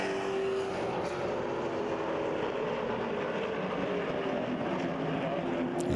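Late model stock cars race around an oval track at a distance, a steady blended engine roar with no break and no talking.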